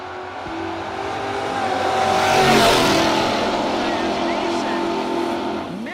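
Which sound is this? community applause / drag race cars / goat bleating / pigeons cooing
drag race cars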